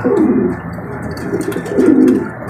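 Two male pigeons fighting in a loft coo in low, throaty rolls, two swelling bursts close by, with faint chirps in the background.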